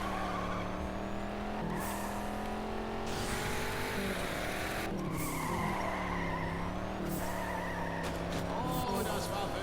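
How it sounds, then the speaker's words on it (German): Race car in Juiced 2 sliding at high speed toward a wall, a loud sustained engine roar with long tire squeals and skidding over several seconds, close up, with voices talking throughout. "Wagen 5 treibt bei hoher Geschwindigkeit vor die Wand."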